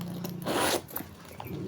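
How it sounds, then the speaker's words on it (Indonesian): A zipper is pulled open across the middle of a secondhand branded handbag, one quick rasping run of about a third of a second, close up, with light rustling of the bag around it. "Kalau kita buka ininya dulu, baru tengahnya ada resleting ya."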